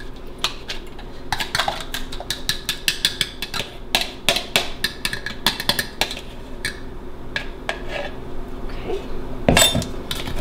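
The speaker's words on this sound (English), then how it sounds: "So I'm gonna take my fork, blend that up real quick." A fork scrapes and clinks rapidly against a bowl while blending wet ingredients for cinnamon protein snickerdoodle cookies, producing a steady run of close, bright metallic taps with one louder clank near the end.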